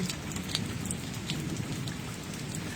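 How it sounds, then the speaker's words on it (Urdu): Steady rain falls on surfaces with a few louder drops, and a low, faint roll of thunder sits beneath the hiss, with no voices. "ابھی بھی بادل گرج رہے"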